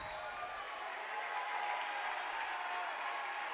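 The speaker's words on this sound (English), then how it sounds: "Applause." Crowd in a high school basketball arena applauds and cheers during a boys semifinal game, a continuous wash of clapping and noise at moderate level.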